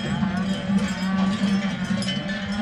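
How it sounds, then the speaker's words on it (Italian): A herd of Piedmontese cows on the move during a transhumance to mountain pasture, with cowbells clanking steadily and cattle lowing loudly and near, calling to their calves amid a busy outdoor din. "Le vacche chiamavano i loro vitellini."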